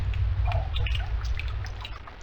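Water drips and trickles in the Stoneship Age of the Myst video game, scattered small droplet plinks over a low, steady ambient hum.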